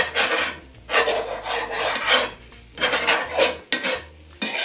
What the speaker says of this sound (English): I'm just going to cut this up with my spoon.